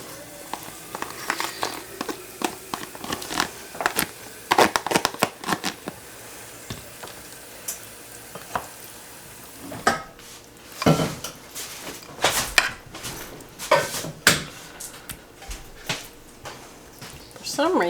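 Mashed potatoes being spread over meat in a baking dish, soft scraping and tapping of a utensil against the dish in irregular bursts, with a person talking over the work.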